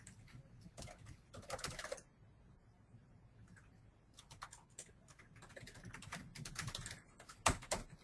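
Typing on a computer keyboard during a real estate blogging webinar, several bursts of rapid close key clicks separated by short pauses, with quieter stretches between.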